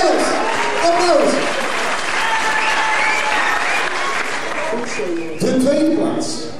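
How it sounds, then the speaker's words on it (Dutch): Audience applause for the scouts at a scouting playback show, sustained loud clapping from a crowd lasting several seconds, with voices and cheers mixed in and a fresh surge near the end. "Applaus!"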